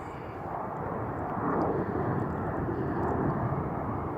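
Blue Angels jets roar past at an air show, a loud, steady broadband rush that swells slightly as the aircraft pass overhead, with no break in the sound.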